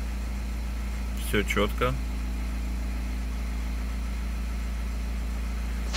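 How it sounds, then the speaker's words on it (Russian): A third-generation Honda CR-V with a 2.2 i-DTEC 150 hp diesel engine idles with a steady, low, even hum, while someone speaks briefly near the start. "Все, мотор работает"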